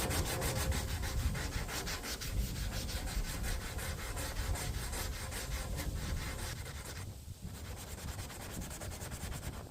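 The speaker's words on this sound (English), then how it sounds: "we're going to get in here with the sanding block. We're going to hit it with a 180." Hand sanding a Ram 2500 Mega Cab truck body with a 180-grit sanding block, close rhythmic back-and-forth rubbing strokes repeating steadily, with no talking.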